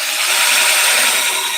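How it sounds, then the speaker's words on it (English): A power drill bores holes in a plastic DIY compost bin, giving a loud, steady high-pitched whir and grinding buzz up close, unbroken and with no talking. "I just used my drill bit like this, and I put holes all the way around."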